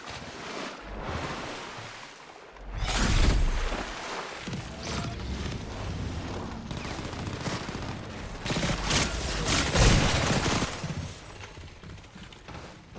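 Bursts of video-game gunfire aimed at the player's character, with shots and blasts recurring through a dense, roaring mix of loud game noise.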